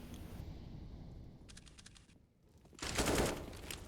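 Flashbangs and grenades go off in a Counter-Strike match, a short crackle of bursts followed after a brief lull by a louder, sharper blast, all under a constant low game-ambience hum.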